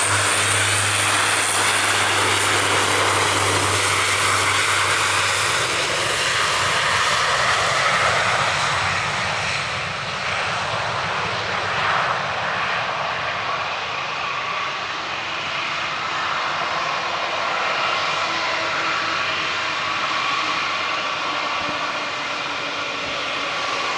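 Jet airliner engines roaring at Manchester Airport runway, a loud, steady broadband rush sustained throughout with a low hum fading early, no voices.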